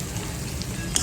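Chicken gizzards sizzle steadily in a hot pan with ginger, a continuous close frying hiss under light stirring, with one brief sharper clink near the end.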